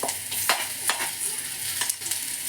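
Garlic and onion frying in oil for Mangalorean chicken sukka, with a bright continuous sizzle broken by several sharp stirring scrapes and clatters of a utensil against the pan, close and loud.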